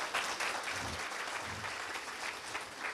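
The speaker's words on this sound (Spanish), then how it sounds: "un aplauso" Applause from an audience at a talk by animator Luciano Chamblas, a fairly faint, steady patter of clapping that swells slightly in waves for a few seconds with no voices over it.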